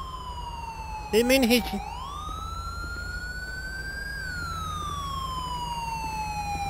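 An ambulance siren in Grand Theft Auto V wails in long rising and falling sweeps, loud and steady, with a brief burst of speech early on over it.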